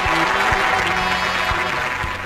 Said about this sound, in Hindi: जोर से तालियां बजाओ इस मसा के लिए